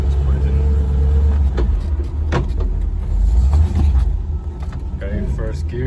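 A Range Rover with a swapped Chevy V8 and its final exhaust setup, towing a heavy trailer in low gear: a steady deep engine rumble with cabin noise and a brief mechanical whir, held throughout under intermittent talk.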